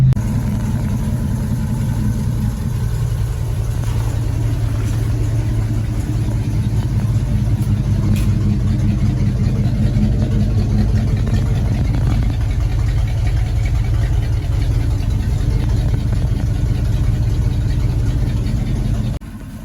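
A cold Jeep Wrangler engine idles steadily while warming up, with a low, rumbling hum, constant and close, with no talking over it.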